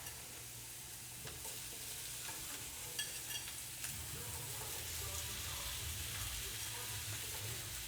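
Smoked sausage fries in olive oil in a cast iron skillet, giving a steady close sizzle with occasional stirring scrapes and no talking.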